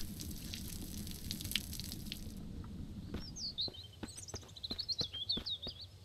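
Water pours onto garden beds in the survival game Mist Survival, a steady splashing stream that stops after a couple of seconds, followed by bright, repeated bird chirps in the background.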